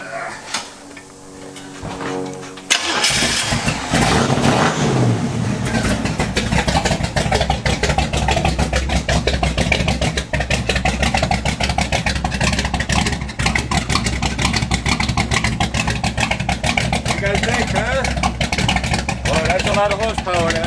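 A hot rod engine on a 1932 Ford chassis in a machine shop cranks to life after a quiet moment, then roars loudly and steadily with repeated revving for the rest of the clip, with talk mixed in.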